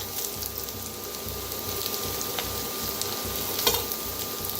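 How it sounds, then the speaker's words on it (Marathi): Onion, spring onion, curry leaves, chili and garlic frying in a pan, a steady close sizzle with occasional light clinks and stirring sounds. "आणि कांद्याची पात ती बी भाजून घेऊया।"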